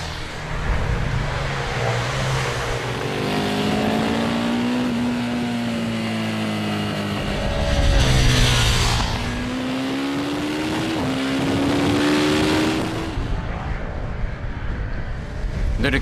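Ducati Streetfighter naked motorcycle engine under riding, a loud steady high-revving drone that rises and falls through gear changes, passing close around the middle before continuing on, alone without talk.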